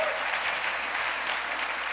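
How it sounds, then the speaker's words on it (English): An audience at a live interview event breaks into steady, dense applause, many hands clapping evenly at moderate volume with no voices over it. "that's why you're getting that applause"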